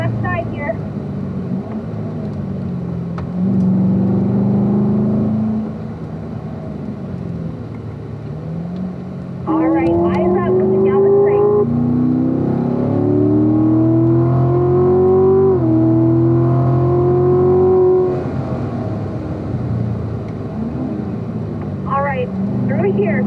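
A race car engine climbs through the revs on a track, loud and close, with rising whine as it accelerates out of a corner, while a driving coach talks over the roar.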